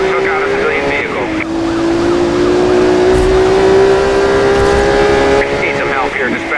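A Ferrari Enzo races in a police pursuit in the Need for Speed Hot Pursuit video game, the engine whining loud and steady as it climbs through the gears, with police radio chatter over it.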